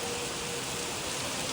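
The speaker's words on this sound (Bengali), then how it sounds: "আরো বৃষ্টি জোরে পড়ছে এখন।" Steady, dense rain with hail pouring down outdoors during a hailstorm, a continuous close hiss with no pauses and no voices.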